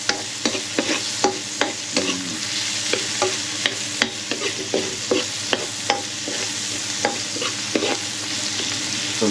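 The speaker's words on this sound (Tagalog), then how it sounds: "so medyo sasangag lang tayo ng konting bawang dito" Garlic sizzles steadily in a pan while a utensil scrapes and stirs it in a regular rhythm of sharp knocks, close and fairly quiet, with no talking.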